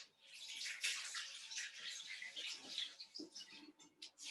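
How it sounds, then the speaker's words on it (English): Hands are rinsed under running water in a home kitchen while raw vegan Christmas cake is being made, a soft, close splashing and pattering that stays fairly quiet and uneven, with no talking. "I'm just going to give my hands a little rinse."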